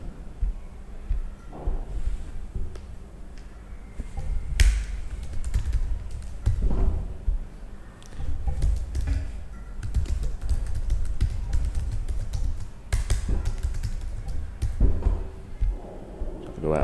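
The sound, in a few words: typing on a computer keyboard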